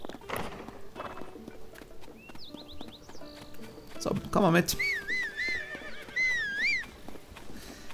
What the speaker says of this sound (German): Wo ist mein Pferd denn?